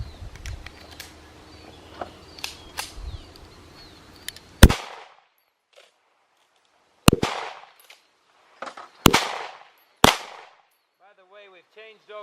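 A Tisas BR9 pistol fires CCI Blazer brass ammunition during an endurance test: four sharp, loud shots at irregular intervals, with lighter clatter and low background noise before the first shot.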